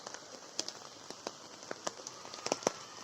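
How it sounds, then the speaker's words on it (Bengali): Rain patters steadily on surfaces outdoors during flooding, a soft continuous hiss broken by sharper individual drop taps, fairly faint and without any talking. "অলরেডি বৃষ্টি পড়ছে"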